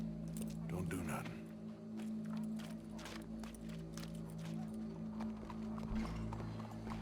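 Horse hooves clip-clop at a walking pace in the Red Dead Redemption 2 video game, faint, steady taps under low game ambience and a background drone, with no talk.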